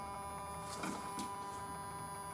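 Electric vacuum pump in the Cappuccino EV conversion project car, giving a steady, fairly quiet electrical buzz with a constant tonal drone, broken by two brief mechanical whooshing bursts partway through, with no voices.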